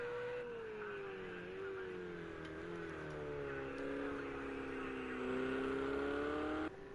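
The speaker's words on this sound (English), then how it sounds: "Some of these engines do sound very mad." GTE race car engines roar at Bathurst Mount Panorama, a sustained high whine shifting in pitch as gears change, fairly faint and distant, with possible faint commentary beneath.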